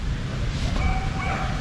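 Off-leash dogs in a city park in Mexico City, with a dog giving a brief, faint bark or yip over low outdoor background noise.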